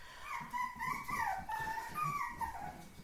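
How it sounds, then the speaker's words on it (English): A puppy whimpers and cries for attention indoors, giving a string of close, high, wavering whines and yips that rise and fall almost continuously, with no talking over them. "oh, that puppy's carrying on."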